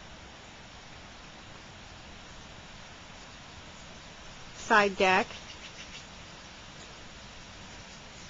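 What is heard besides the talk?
creek water flowing in background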